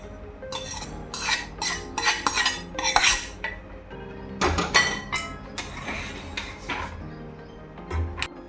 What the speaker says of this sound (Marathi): असं मिक्स करून घेते